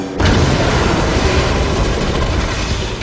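A runaway line of trucks slams into a waiting engine in an animated train show, one loud sudden crash that swells into a long, dense rumbling roar of clattering wagons and debris.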